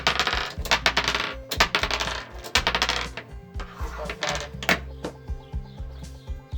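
Cartridges are thumbed out of a Makarov PM 9x18mm pistol magazine, producing a rapid series of close, sharp metallic clicks and clinks in irregular bursts as each round drops loose.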